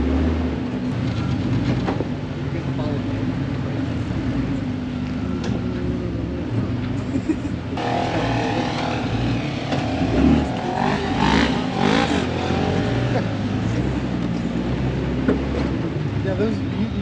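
A Jeep at a mud bog in fall drones with a low, steady engine rumble throughout, and its revving rises briefly midway while people talk nearby.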